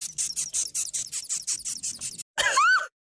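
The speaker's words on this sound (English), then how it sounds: "One fun fact I learned while looking up the symbolism of the Death's Head hawk moth was that they squeak" Death's Head hawk moth squeaking: a rapid train of about a dozen short, shrill chirps over two seconds, then a brief pause and a longer squeal with rising tones, close and fairly loud with no voices.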